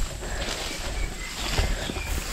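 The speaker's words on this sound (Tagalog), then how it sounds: "Hangin." Wind blows across a mountain farm, a steady close rush of gusty noise buffeting the microphone throughout, with no talk.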